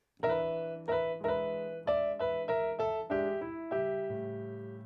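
Piano chords struck one after another in a slow, uneven rhythm, each ringing out over a low sustained drone, clear and close with no talking.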